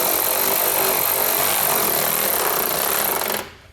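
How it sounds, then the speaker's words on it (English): A 13mm socket drives down nerf bar mounting hardware on a 2016 Nissan Frontier, producing a loud, continuous, close whirring buzz that cuts off abruptly near the end. "then we can go back and tighten down this hardware. We're going to use a 13mm socket to do so."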